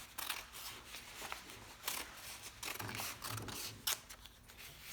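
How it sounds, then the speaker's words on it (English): Scissors snipping through a square of paper, close and quiet, with a series of short crisp cuts and rustles spaced unevenly. "take your scissors and cut this bottom half off"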